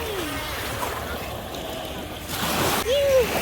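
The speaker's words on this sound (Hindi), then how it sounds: "काफ़ी स्पीड पे चलती है बोट." A boat speeds across cold sea water off a beach, a steady broadband rush of engine and water that swells louder toward the end, with people talking over it.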